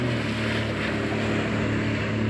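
A single-jet-drive boat engine drones steadily and up close, a constant hum with strong low tonal bands and a broad rushing wash of water over it, unbroken from start to finish.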